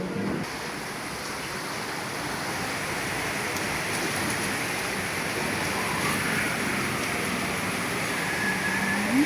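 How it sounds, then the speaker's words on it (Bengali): Heavy rain pours down outside, a dense, steady roaring wash of water that builds slightly over time, heard alone without voices. "বাইরে ঝুম বৃষ্টি হচ্ছে"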